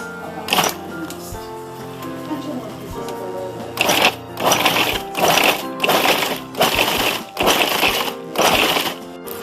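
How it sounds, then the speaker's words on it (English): A food processor pulses squid into a coarse paste, sounding as a series of about six short, loud whirring bursts in a steady rhythm, each followed by a brief pause. "Plug in my food processor. Click on my lid. And pulse into a paste."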